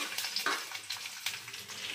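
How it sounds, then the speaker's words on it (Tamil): Garlic frying in hot oil for a Tamil spinach kootu, a steady close crackle with soft bursts of hiss and small clinks of stirring running through the whole stretch. "பூண்டு நல்லா ஃப்ரை ஆகட்டும்."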